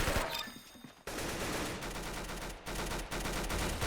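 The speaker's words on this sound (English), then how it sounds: "I see some shots being fired here" Rapid gunfire bursts from the Roblox shooter game Arsenal, dense overlapping shots and automatic fire running almost continuously at close range, with only brief gaps.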